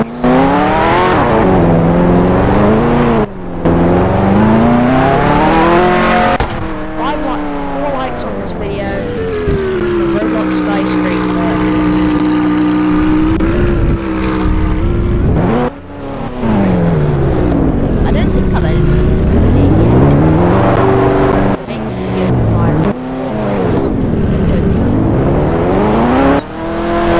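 Ferrari engine in a Roblox driving game on a windy road: loud, continuous engine drone that revs up and down through repeated gear-like sweeps, dropping briefly at a few points before climbing again.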